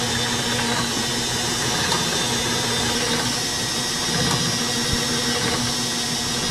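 A pharmacy mixing machine clamped at speed 2 blends a compounded cream, giving a steady, loud motorized whir with a low hum, continuous and unchanging throughout with no speech.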